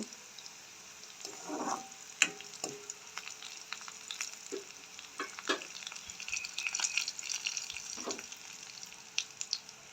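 Onions sauté in a pan for a Jaffna-style tin fish curry, a soft continuous sizzle broken by scraping stirs of a spoon against the pan, quiet and close with no talking.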